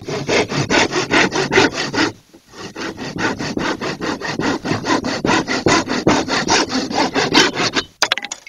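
Bamboo is sawn for a mortise and tenon joint with steady, rhythmic back-and-forth strokes, close and loud, pausing briefly before the sawing resumes at the same pace.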